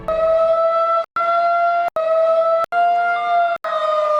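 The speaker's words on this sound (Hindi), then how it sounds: "किसी भी आपात स्थिति में रुक रुक कर सायरन बजाया जाता है।" A loud emergency siren at an industrial facility sounds in repeated steady blasts, each about a second long and separated by brief gaps.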